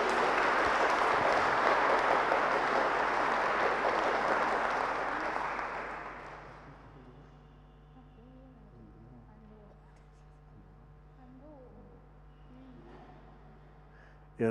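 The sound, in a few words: church congregation applause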